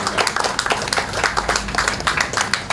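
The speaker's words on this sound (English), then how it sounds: "So give a round of applause for PANCAP." Audience applause at the launch of a mobile blood bank, a steady dense patter of many hands clapping close by for nearly three seconds, loud and continuous with no talking.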